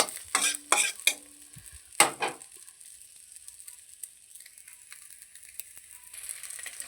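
Egg fritters frying in oil in a pan: a few loud, close spatula clatters and scrapes open the sound, then a soft, thin sizzle continues quietly with occasional small ticks.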